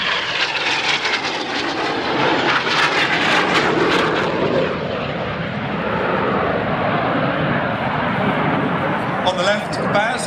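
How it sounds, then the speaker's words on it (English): Red Arrows synchro pair jets running in for the Carousel manoeuvre at the Perth airshow, a loud, rolling roar that swells and sustains throughout, heard beneath continuous commentary. "a Synchro pair running in now for a manoeuvre called the Carousel"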